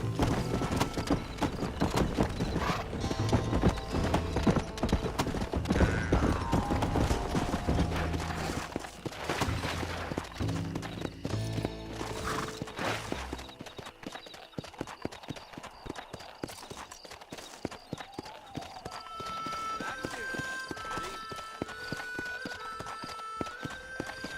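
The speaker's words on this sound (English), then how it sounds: "Horse is racing, you know." Rapid, rhythmic hoofbeats of a galloping horse in the video game Red Dead Redemption over a busy synthetic music score, continuous and loud throughout.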